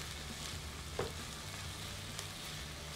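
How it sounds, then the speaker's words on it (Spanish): Garlic paste and sofrito for rice with salt cod fry in a pan with a soft, continuous sizzle, one brief utensil knock and a faint scrape breaking the steady hiss. "Seguimos sofriendo todo esto."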